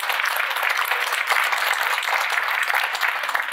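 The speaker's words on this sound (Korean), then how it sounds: "큰 박수 부탁드립니다" An audience at a city choir concert in Samcheok applauds an introduced council chairman, loud, full, continuous clapping from a large crowd filling the whole stretch.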